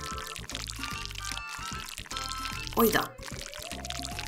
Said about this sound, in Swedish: Då ska vi försöka hälla upp den här i ett glas bara.